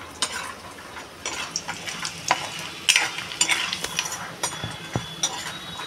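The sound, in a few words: frying lentil dumplings (bori) in oil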